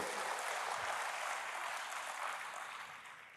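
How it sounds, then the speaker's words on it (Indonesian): Applause from a church congregation, a broad wash of clapping that holds steady, then slowly fades toward the end, moderately distant and not very loud, with no one speaking over it. "Yang mengerti berikan tepuk tangan bagi Tuhan"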